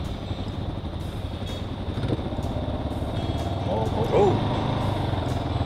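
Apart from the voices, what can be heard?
Kawasaki KLR motorcycle riding through water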